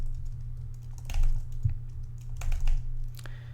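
Fingers tap on a computer keyboard in short clusters of light keystrokes, close by over a low steady hum, with no voices.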